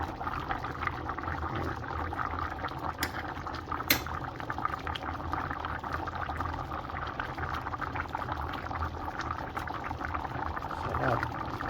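Steady, continuous bubbling of coconut milk liquid for ginataang tilapia boiling hard in a pot, close by, with a faint background hiss and no talking.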